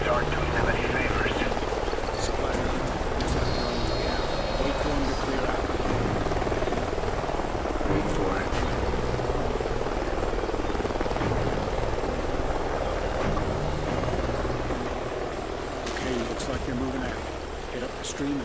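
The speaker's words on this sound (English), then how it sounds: "Sounds like a chopper's up ahead of us." Helicopter flying overhead in the Call of Duty: Ghosts video game, a loud continuous rotor roar mixed with rushing river water and scattered game effects.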